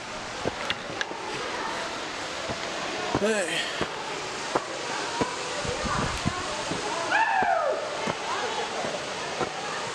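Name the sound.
waterfall at a tourist attraction in Mashhad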